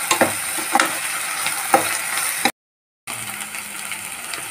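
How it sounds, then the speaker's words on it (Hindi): Ginger and garlic paste fry with onion in a hot pan, a loud steady sizzle broken by stirring scrapes and spatter pops, with a brief silent gap partway through. "लहसुन का पेस्ट को भी हम गोल्डन ब्राउन तक फ्राई करेंगे।"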